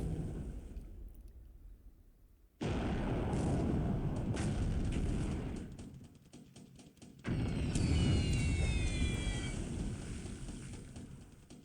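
Bomb hit explosions in the naval war game Pacific: AE during a 1942 air strike on ships, two long rumbling blasts of artillery-like booms, each roaring for several seconds before fading, separated by brief quiet, without talk.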